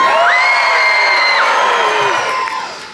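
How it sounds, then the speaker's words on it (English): A cruise ship audience screams, whoops and cheers loudly in one sustained burst of overlapping high voices, tapering off after a few seconds. "And the people will scream."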